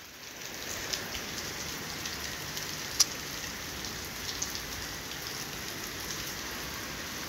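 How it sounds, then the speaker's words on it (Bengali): Heavy rain pours down over Dhaka as an even, continuous hiss, soft and somewhat distant, dotted with a few sharper drop ticks and no talking. "অনেক অনেক বৃষ্টি হচ্ছে"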